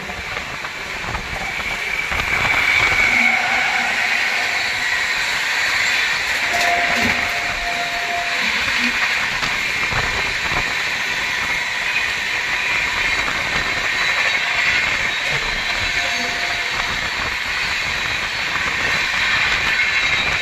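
Gonda Dauri Express running at full speed gives a loud, continuous rushing rumble with rail clatter and brief wheel squeal, heard close and steady for the whole stretch.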